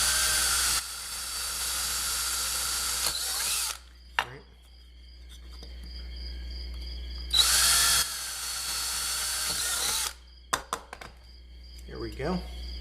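A power drill widens a pilot hole in a metal pedal box for a buffered loop pedalboard build, in two loud close bursts of whining drilling separated by quiet, with small handling clicks afterward.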